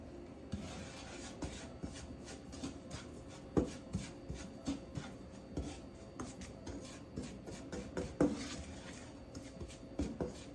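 A spatula scrapes and stirs garlic bread pasta in a pan, giving repeated rhythmic scraping and clacking strokes against the metal, close and fairly quiet, about one stroke every half second.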